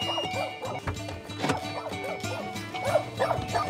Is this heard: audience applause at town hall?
no